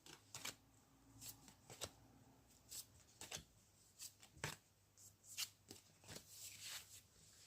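Tarot cards are shuffled by hand in quiet, close bursts of crisp riffling and slapping, repeated rapidly with short pauses between.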